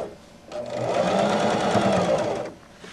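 A domestic sewing machine runs steadily for about two seconds as it stitches a curve across a seam, a close, even mechanical whir with rapid needle clatter that starts and stops cleanly.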